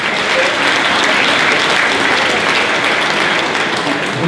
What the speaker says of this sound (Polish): Proszę Was, że wielkie brawa